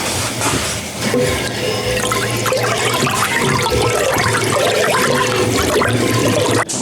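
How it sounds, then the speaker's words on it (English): Apple and orange juice wassail is stirred in a pot, making a loud, continuous sloshing, watery wash close by that stays steady throughout, with no speech. "Let's go ahead and stir this a little bit."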